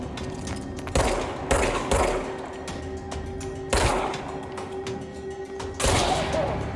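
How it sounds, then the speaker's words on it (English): Heavy gunfire booms in the video game Control, several loud, sharp reports spaced a couple of seconds apart over a droning ambient hum, each shot trailing off in a short rumbling echo. "That's a sniper and a headshot."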